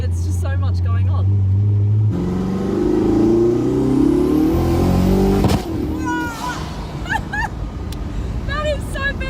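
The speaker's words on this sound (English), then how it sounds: "it's got that like that kind of backfire pop, and then you hear the of the turbos, and it all kind of happens simultaneously" A supercar engine revs hard with turbo whoosh and backfire pops, a loud, rising roar that swells and then cuts off sharply, heard from inside the car while people talk excitedly over it.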